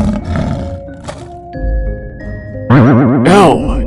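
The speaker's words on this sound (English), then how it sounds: "L is for lion." A lion roars loudly and close, a deep rumbling growl swelling into a full roar, heard alone after a few soft chimes and tones.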